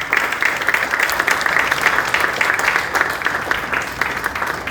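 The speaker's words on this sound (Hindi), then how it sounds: "आपकी तालियां बजती रहनी चाहिए डियर पार्टनर्स" Steady, loud applause from an audience at an Indian business stage event in a hotel, dense clapping with bright individual claps popping out of the wash, continuous for several seconds with no talking.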